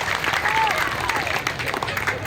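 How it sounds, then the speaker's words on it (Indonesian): Applause from the audience at the Sulawesi Selatan Harkopnas cooperative day anniversary gala night, greeting the acting governor, a steady crowd clapping that stays dense and even from start to finish. "Sekali lagi aplaus buat beliau."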